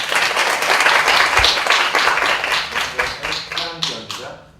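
An audience at a traditional music workshop at a festival applauds warmly, dense steady clapping from many hands that thins out to a few scattered claps and fades.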